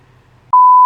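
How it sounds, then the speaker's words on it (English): A single sharp, loud censor beep, a steady pure tone that cuts in abruptly after a faint low murmur and holds to the end. "I'm gonna put a beep over those names."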